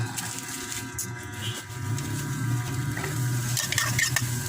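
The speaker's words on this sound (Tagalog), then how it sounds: "Igisa natin." Onions sauté in a hot pan as cooking starts on coconut-milk tilapia with bok choy, giving a steady close sizzle with scraping and clinks from stirring.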